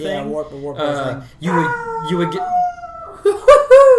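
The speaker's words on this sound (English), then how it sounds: "That's my dog." A dog close by howls, a long rising and falling wail with a few sharp yelps near the end, heard alongside someone talking.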